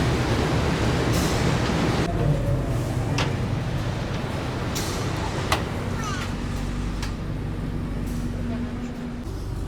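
Ambience inside an economy carriage of the Joglosemarkerto train, with a continuous low rumble and rolling noise, faint clicks and occasional thumps throughout, and people talking over it.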